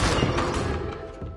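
Incendio fire spell cast in Hogwarts Legacy, a single loud burst of whooshing flame that fades over about a second, heard alone.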